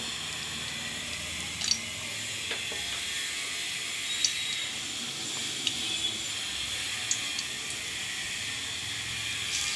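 Dried red chilies tempering in hot oil in a kadai, giving a steady, even hiss with a few faint crackles and pops on top.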